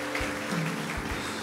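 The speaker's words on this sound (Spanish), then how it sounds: "Aplauda a Jesús." A church congregation applauds, with a wash of clapping under a low hum and a few deep thumps scattered through the short stretch.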